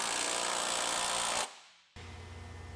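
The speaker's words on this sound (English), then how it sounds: "Now you can go ahead and tighten your bolt all the way." Power tool driving a body mount bolt tight on a lifted truck, one steady loud burst of whirring impact that cuts off, a short quiet gap, then a lower grinding run resumes.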